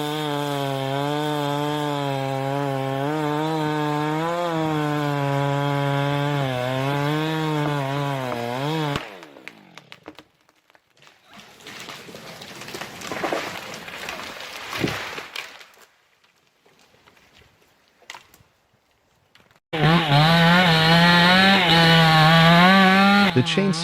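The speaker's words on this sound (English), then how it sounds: "The chainsaw screams, its piercing roar echoes through the forest." Chainsaw cutting through a tree in a forest, a loud steady roar with wavering pitch that drops away mid-clip to scattered rough sawing and crackle, then surges back to full throttle near the end.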